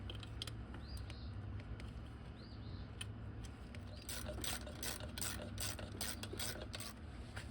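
A hand ratchet turns a 12mm bolt on the engine of a third-generation Toyota 4Runner during a spark plug and coil pack job. The clicking is faint and quick, in short bursts over a soft background hiss, with no talk.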